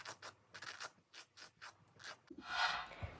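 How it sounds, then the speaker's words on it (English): A nail file rasps against artificial dip-powder nails in short repeated strokes, close and quiet, with a brief louder scrape at the end and no talking. "we can go ahead and start filing them down into the shape that you want them"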